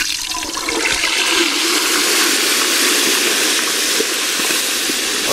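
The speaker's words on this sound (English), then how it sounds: "You want to put it in there slow. It's going to be violent just because water and oil don't really mix." A whole turkey lowered slowly into a pot of hot frying oil sets off a loud, steady, violent sizzle and rushing bubble that runs unbroken from start to finish, close and filling the sound.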